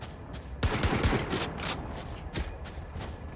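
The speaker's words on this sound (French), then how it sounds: "Le buck est tellement efficace cette arme." Buckshot shotgun fire in a Valorant ranked match: a burst of sharp gun blasts around the first second, then a quieter shot later, set against steady game background noise.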